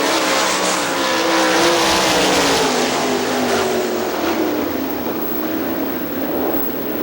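Sprint race cars roar around Hartford Speedway Park during a Gumout Sprint Series event, a loud, continuous blend of several engines at full throttle that swells and fades slightly as the pack passes, with no one talking.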